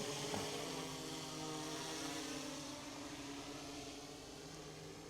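A DJI Mavic 3 Classic drone hovers and flies in the open, giving a steady, even propeller whine with a faint tonal hum beneath a broad wash of noise. The sound stays constant throughout and no one speaks.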